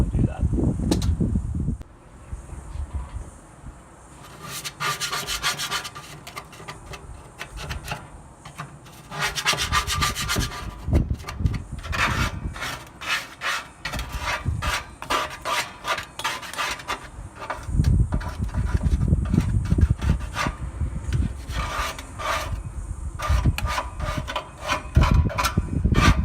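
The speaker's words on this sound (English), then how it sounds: "take yourself a paint scraper and just scrape the gunk down" A paint scraper scrapes caked gunk down the inside of a Weber gas grill, giving repeated rough rubbing, rasping strokes in uneven bursts at close range, with some handling clatter between passes.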